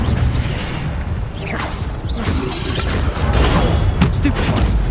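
An Incendio fire spell cast in Hogwarts Legacy, a loud burst of whooshing, crackling flame and impact rumble over a few seconds, with a voice calling out spells over the effects.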